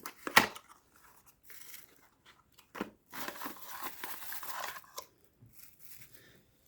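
The packaging of a Piranha push-button USB hub is torn and crinkled open at close range in a few short bursts, with a sharp rip near the start and a longer crackling stretch later.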